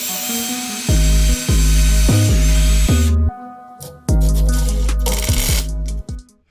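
A power driver whirs in repeated short bursts, each starting with a rising whine and then settling, as screws go into parts of a 1/10 scale RC rock crawler bridge, loud and close with brief pauses between runs.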